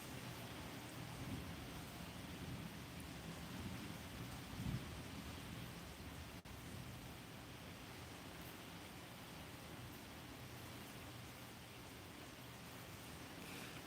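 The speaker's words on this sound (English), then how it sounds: "we've got a big Alpha 9 says that was some thunder" A steady wash of storm noise carries a low thunder rumble, with rain falling throughout, faint and distant, and nobody speaking.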